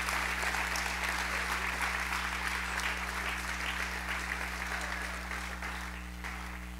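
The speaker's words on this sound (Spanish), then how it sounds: "Podemos dar una ofrenda de palmas al Señor." A church congregation at a Spanish-language retreat service applauds together, a sustained, even patter of many clapping hands heard from a distance that slowly fades toward the end, over a low steady hum.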